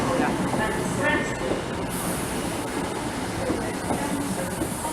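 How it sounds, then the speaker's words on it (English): A train slows down and stops at a station, with a continuous loud rumble of rolling stock and a high wheel squeal that fades partway through. "Oh, this train is stopping."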